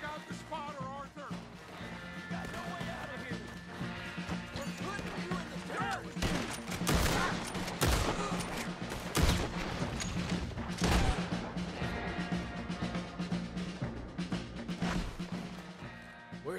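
Gunfire and heavy cannon blasts boom through a chaotic battle near a hilltop fort in Red Dead Redemption 2, with loud cracks and thuds over a constant rumble of combat.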